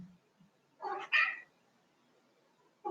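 A house cat meows during an indoor hatha yoga session, one clear two-part meow in the middle of a quiet room and the start of another at the end.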